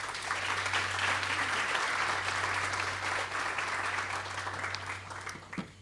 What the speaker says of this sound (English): give them a round of applause real quickly for the great work that they're doing in the community